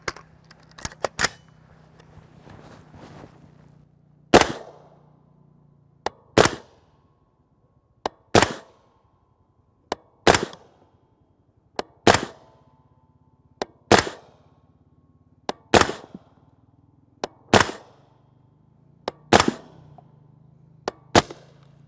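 Suppressed rifle shots from a JK Armament 300 Blackout kit firing 208-grain A-MAX subsonic ammunition from America's Ammunition Company, about a dozen sharp cracks spaced roughly two seconds apart, each followed by a short mechanical clatter, with a low hum beneath.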